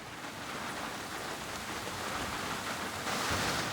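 Steady rainfall in Zanzibar patters continuously on a surface, a soft, even wash of noise that swells slightly toward the end.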